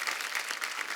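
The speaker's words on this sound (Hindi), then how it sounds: "एक बार जोरदार तालियां दिलीप साहब और धर्म पाजी के लिए" A studio audience claps for Dilip Kumar and Dharmendra on a comedy talk show, giving a dense, steady, bright wash of applause with no voices over it.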